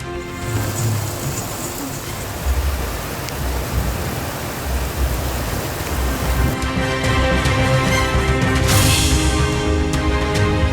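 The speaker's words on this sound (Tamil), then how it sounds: "தமிழகத்தின் பல்வேறு பகுதிகளில் இரவில் வெளுத்து வாங்கிய மழை" Heavy rain falls at night in Tamil Nadu as a dense, steady, loud hiss of downpour with no break, and there is no talking.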